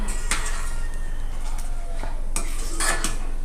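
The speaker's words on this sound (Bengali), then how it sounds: "এইভাবে চামচ দিয়ে চামচের কোনা দিয়ে কেকে আমাদের দুধের সঙ্গে মিক্স করে নিতে হবে" A spoon scrapes and clinks against a pan while boiling milk is stirred for kulfi, a few distinct metallic strokes over a steady low kitchen hum, close and fairly loud.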